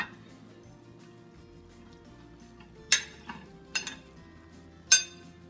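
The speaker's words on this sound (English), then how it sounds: "And stir this in." Seafood and smoked sausage stirred into rice in a pot: a low background hum broken by a few sharp metallic clinks and scrapes of a utensil against the pan, spaced apart and fairly close.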